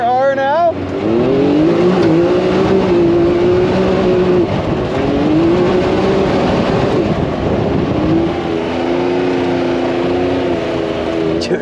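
A Can-Am Maverick X3 Turbo RR side-by-side being driven, its loud engine revving up and settling into a steady drone with shifting pitch, close and continuous, with a voice briefly heard over it.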